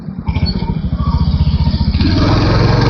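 A Royal Enfield Hunter 350 motorcycle rides along with its single-cylinder engine thumping in a rapid, even pulse, loud and close, rising slightly as it gathers speed amid wind rush.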